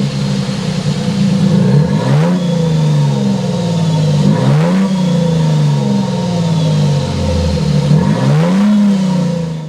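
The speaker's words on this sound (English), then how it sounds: "start up this hybrid max so you can hear that exhaust note" A 2024 Toyota Sequoia TRD Pro hybrid's exhaust note, close and loud, rising in three repeated revs that climb and fall back over a steady idle.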